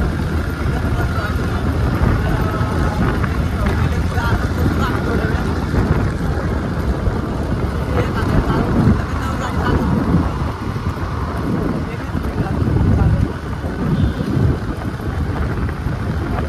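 Scooter ridden along a road, a continuous rumble of engine, tyre and wind noise close to the rider, with voices talking over it throughout.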